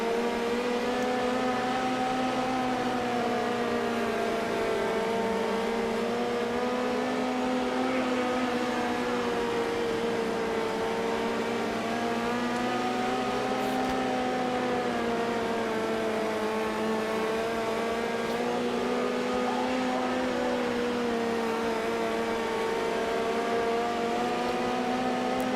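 Sprint car engine from the World of Outlaws 24 racing game, a continuous loud whining drone whose pitch swells and dips steadily with throttle through the laps, with no talk.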